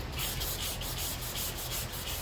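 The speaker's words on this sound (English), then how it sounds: "You rub it down." Rhythmic back-and-forth rubbing of a freshly clear-coated van body panel, close and loud, with regular strokes about every third of a second.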